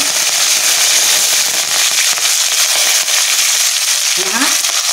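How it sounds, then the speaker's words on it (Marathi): Mustard seeds, cumin and curry leaves sizzle loudly in hot oil for kadhi tempering, a dense steady crackle and hiss with sharp popping throughout, close and filling the whole moment. "तर आपण आता याच्यामध्ये 1 चमचा आपण मोहरी टाकलेली आहे, तसंच 1 चमचा जिरं टाकलेलं आहे आणि आपण हा कढीपत्ता"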